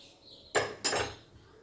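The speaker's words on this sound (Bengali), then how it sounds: "আমি এবার গ্যাসের মধ্যে আমি কড়াইটা চাপিয়ে দেবো।" A metal kadai set down on a gas stove gives two sharp clanks about a third of a second apart, each ringing briefly before fading. No one speaks.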